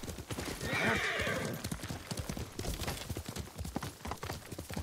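Steady hoofbeats clatter along with a horse's neigh near the start, from the PS5 game Ghost of Tsushima, loud and continuous with no talk over them.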